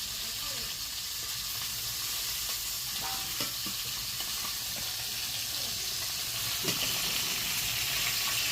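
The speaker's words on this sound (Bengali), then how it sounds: "এই যে রান্না চলছে, মাছ ভাজি হচ্ছে" Fish frying in a pan in a village home kitchen gives a steady, close sizzle throughout, with a few scraping stir sounds; there is no talking.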